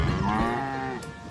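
Cattle on a family cow-calf farm give a long, drawn-out moo that rises and holds, close and fairly loud with no talking over it.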